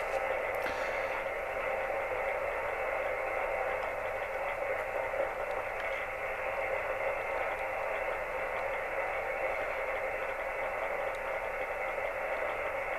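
Continuous hiss of radio static on a receiver tuned near a magnetic loop antenna, a steady, even wash of noise at moderate level with no voices.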